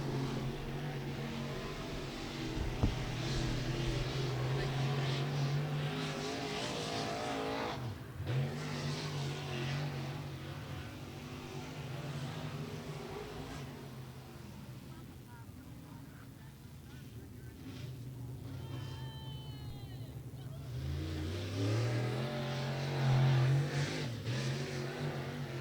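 Race car engines drone and rev around the track during qualifying at Beckley Motor Speedway, rising and fading as cars pass, with wind buffeting the microphone and an announcer's voice talking over much of it.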